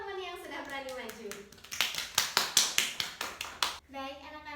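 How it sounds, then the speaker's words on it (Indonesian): Students in a classroom give a short burst of rhythmic clapping for a classmate, about a dozen claps in quick succession between stretches of an adult voice talking. "Tepuk tangan dulu untuk teman yang sudah berani maju."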